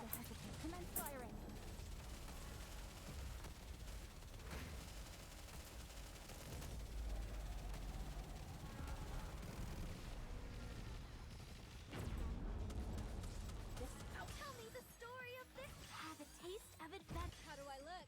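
Sustained gunfire from the video game Snowbreak, a dense barrage of rapid shots and booms running throughout under game music and voices.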